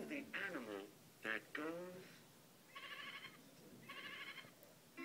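A farm animal toy plays a sheep's bleat, two short buzzy electronic bursts heard after a few spoken words, fairly faint and close.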